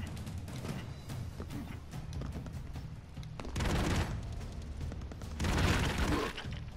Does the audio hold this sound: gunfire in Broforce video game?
yes